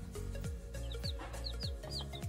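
Day-old chicks in a home-made brooder under an infrared lamp peep continuously, with rapid, overlapping high chirps close to the microphone and soft clucking-like undertones throughout.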